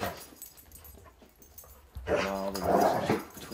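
Dogs play together, giving low, throaty growls that rise into louder, rougher snarling grumbles near the end.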